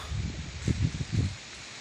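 Dry wind stirring leaves outdoors: soft, low rustling in a few quick pulses, faint and close, with no voices.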